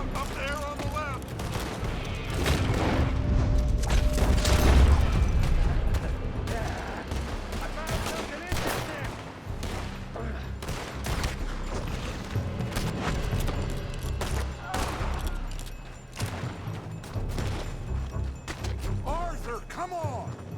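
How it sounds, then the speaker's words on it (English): Gunfire rings out from a building during a Red Dead Redemption 2 shootout, a loud, dense fusillade of overlapping shots and booms that runs throughout, with voices calling out over the firing. "They're shooting from that building."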